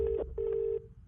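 Electronic telephone call tones: a short beep, a brief gap, then a longer steady beep that fades into quiet background noise.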